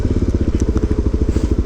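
A Suzuki DRZ motorcycle fitted with a top box being ridden at a Kayo MiniGP track day, its engine giving a loud, close, rapid rhythmic thumping pulse throughout the short stretch.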